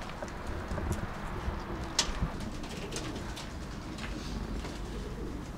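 Pigeons in a large breeding loft coo softly and intermittently against a dense, rumbling background of wing flutters and shuffling, with scattered brief calls at middle distance.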